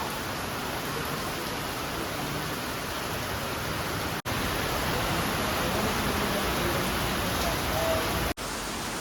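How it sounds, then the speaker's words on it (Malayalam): Heavy rain pours steadily outside at a roadside stop in Adimali, Kerala, a dense unbroken hiss running loud and even throughout, briefly cut twice. "പുറത്ത് നല്ല തകർപ്പ മഴയാണേ"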